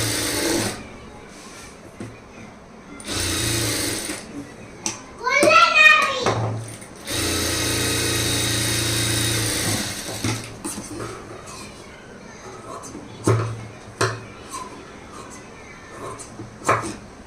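A sewing machine stitching lining cloth to main cloth runs in bursts, a steady close mechanical whir for a second or so, then several seconds, with pauses between; a voice and other talk are heard in the background.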